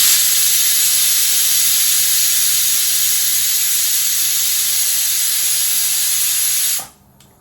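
Chicken pieces fry in a pan with blended onion, ginger and garlic paste, giving a loud, steady sizzling hiss that holds evenly and then cuts off abruptly near the end.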